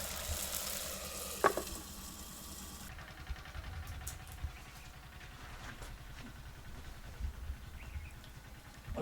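Onions and chillies cook slowly in a pan over low heat, a faint continuous sizzle and gentle frying crackle with an occasional clink, heard alone at a low level.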